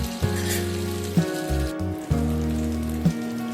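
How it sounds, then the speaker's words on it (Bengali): Potato snack pieces frying in hot oil give off a steady, hissing crackle like light rain. A low droning hum runs underneath, with a few soft bumps along the way. "একটু লাল লাল করে কিন্তু আমি ভেজে নিচ্ছি, তাহলে কিন্তু বেশ মুচমুচে মজাদার খেতে হবে"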